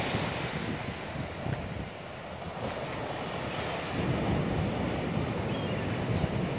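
Ocean surf at Brookings Harbor, Oregon, a steady wash of breaking waves with strong wind buffeting the microphone throughout, loud and continuous with no voices.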